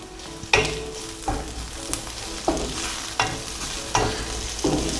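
Cherry tomatoes sizzle and fry in a pan for an aglio olio, with a utensil scraping and stirring them in regular strokes about every three-quarters of a second against a constant crackle.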